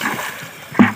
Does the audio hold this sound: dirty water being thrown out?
yes